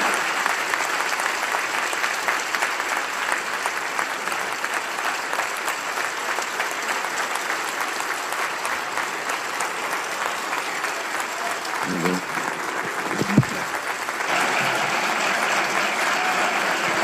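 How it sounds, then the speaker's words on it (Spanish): A large audience at a banking sector plenary meeting in Mexico gives presidential candidate Xóchitl Gálvez sustained applause, a dense, even wall of clapping that continues for the whole stretch, with a brief voice near the end. "Un aplauso para Xochitl Gálvez."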